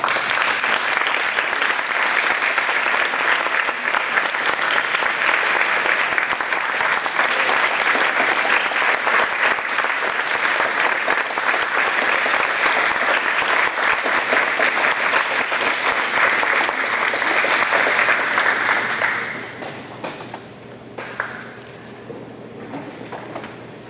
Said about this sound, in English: let's give both of our Eagle Scouts one more round of applause.